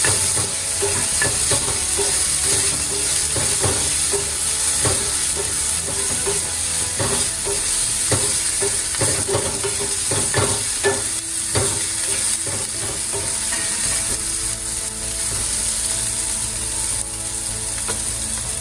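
Onions sauté with a pinch of salt in a pan for a cabbage and egg stir-fry, giving a loud, continuous sizzle. Repeated scraping and clacking of a spatula against the pan cut through it, with no talking.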